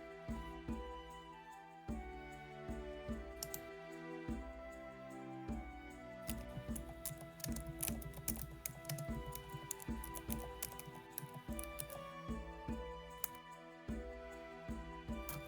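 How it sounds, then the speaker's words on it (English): Rapid clicking and tapping from a computer keyboard while game mechanics for a first tabletop DnD campaign are entered, steady and close, half buried under continuous background music. "Here, I'm typing it in."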